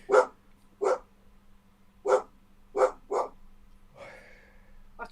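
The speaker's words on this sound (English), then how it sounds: "this Siri's got a deep bark, can you see? It sounds like a much bigger dog" A dog with a deep, heavy bark that sounds like a much larger dog gives five loud, close barks spaced about a second apart, then a drawn-out whine. A steady low hum runs underneath.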